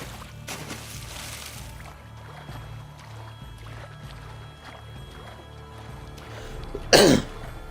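A single sharp cough near the end breaks through a quiet background of faint water sloshing and low rumble.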